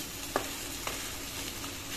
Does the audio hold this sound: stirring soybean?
yes